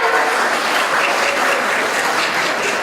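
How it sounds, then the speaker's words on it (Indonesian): Loud, continuous audience applause rings out at a regional tourism ambassador pageant, a thick unbroken clapping that holds steady from start to finish. "Berikan tepuk tangan yang meriah."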